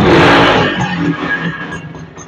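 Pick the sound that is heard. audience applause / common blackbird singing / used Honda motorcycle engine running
used Honda motorcycle engine running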